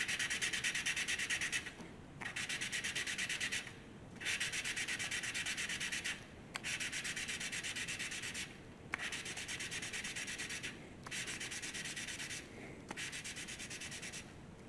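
Exhaust valve lapping on a Simplicity 560 engine: gritty rhythmic grinding strokes, close and steady, each lasting about two seconds with short pauses between.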